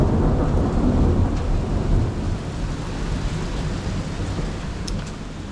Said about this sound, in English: That is a thunder.